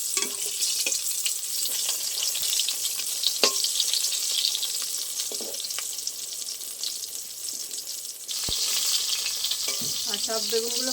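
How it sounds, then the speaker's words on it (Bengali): The remaining eggplant frying in the same oil, a continuous loud, close sizzle with occasional clinks of a utensil, briefly quieter before the crackle surges again. "বাকি বেগুনগুলো একই তেলে ভেজে নেব।"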